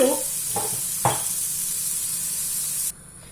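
Sautéed ginger sizzles and pops steadily in a hot pan for minute-long texture, with a few stirring scrapes early on before the frying hiss cuts off abruptly near the end as water goes in.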